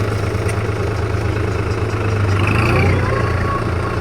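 A 2023 New Holland 5510 Excel tractor with an FPT S8000 engine idles nearby. It gives a steady, low, even rumble throughout, and someone talks over it.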